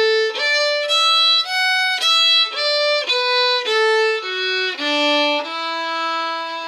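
Fiddle plays the A section of the Irish jig The Frost Is All Over, a clear sequence of bowed notes in a lilting rhythm, close and bright, solo with no speech.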